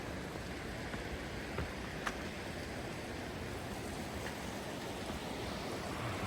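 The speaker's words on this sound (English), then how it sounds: "This is, I believe, Tuolumne River." Tuolumne River water flowing in Tuolumne Meadows, a steady broadband rush of moving water, close and continuous with no breaks, faint brief ticks here and there.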